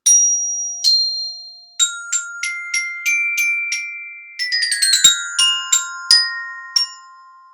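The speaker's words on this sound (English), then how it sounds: "The bells play pretty high notes" High, clear metallic bell tones ring out one after another in a simple melody, each note struck and left to shimmer, with no voices.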